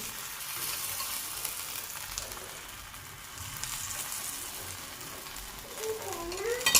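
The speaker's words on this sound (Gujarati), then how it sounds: "અહીંયા આગળ બરાબર બે ત્રણ ટીકીઓ અંદર મૂકીને સરસ મજાની આપણે શેકવાની છે આમાં થોડું ચક તેલ વેરીશું" Aloo tikki patties shallow frying in oil in a pan, giving a continuous soft sizzle and crackle close by, with a faint stir or scrape near the end and no voices.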